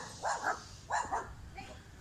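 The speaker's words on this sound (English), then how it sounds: "Barky dogs." Dogs barking a few times nearby in two quick double-bark bursts, then a quieter third bark, loud and alone.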